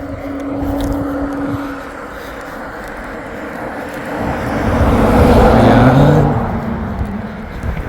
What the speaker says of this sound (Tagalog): Kaya ay may dadaan na sa sasakyan.